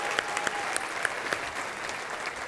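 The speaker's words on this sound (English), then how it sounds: "please join me in giving a round of applause for all the nominees here in the room tonight" Applause from an audience at an evening awards ceremony honoring local nominees, a steady wash of clapping with a few sharper nearby claps standing out, moderately loud throughout.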